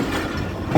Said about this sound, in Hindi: ये लोकोमोटिव स्टैंड कर रहा है इस टाइम।